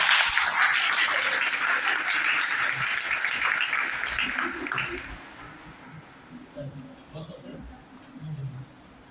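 Audience at a college Ozone Day event claps in a full burst that gradually fades away over several seconds, leaving low murmuring voices and quiet room noise.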